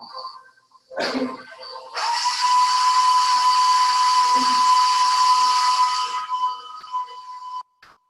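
An electric mixer creams butter and sugar for a pound cake, a loud steady whirring hum that runs for about four seconds after a brief clatter, with quieter handling noises around it.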